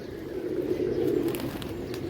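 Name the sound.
pigeons cooing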